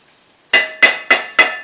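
A utensil strikes a bowl four times in quick succession while yogurt marinade for masala beef steak is mixed. Each clink is sharp, ringing and close, with no talking.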